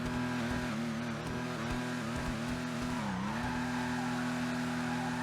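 A Vulcar Nebula Turbo in a racing video game roars with a steady, loud engine drone, pitch wavering slightly as it revs and dips, with faint tire squeal and no talking.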